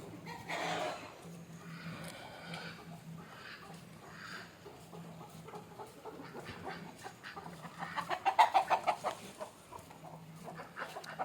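Native country chickens cluck softly in a quiet outdoor coop in the evening, with a brief louder burst of clucking near the end and a faint background hum.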